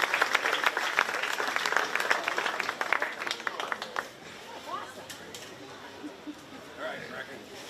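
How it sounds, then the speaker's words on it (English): Crowd applause at a 4-H pig show at the Shelby County Fair, honoring the reserve heavyweight: dense, steady clapping for about four seconds, then thinning out to scattered claps under an announcer's voice and murmuring. "Let's give that young man a big round of applause for your reserve heavyweight."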